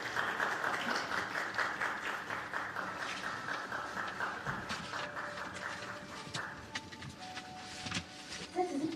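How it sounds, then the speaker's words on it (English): Marathon athletes receive warm applause from the audience at a Tokyo Marathon awards ceremony, steady clapping that gradually thins out, with faint background tones toward the end. "please give a round of applause to the athletes"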